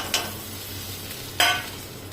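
Pav bhaji masala, red chilli powder and kasuri methi being stirred in a pan, with two short scraping strokes of the spoon over a quiet low sizzle.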